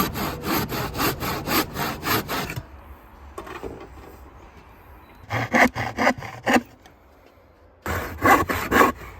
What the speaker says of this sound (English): when you're using a handsaw, always keep your index finger out of the handle